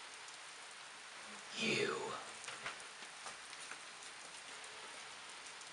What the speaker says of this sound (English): Boy, sure is raining a lot.